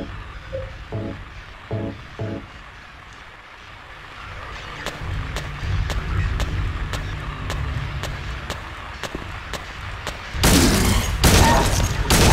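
Handgun shots in the video game Silent Hill 2 ring out as a regular series of sharp cracks over a low rumble, followed by a burst of loud, dense blasts at the end.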